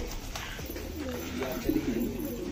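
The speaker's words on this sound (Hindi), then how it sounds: "तो भाई देख सकते हो यार इतने सारे कबूतर हैं" Fantail and Shirazi pigeons coo softly from a crowded loft, a low rolling murmur of several birds overlapping steadily, with faint rustling behind.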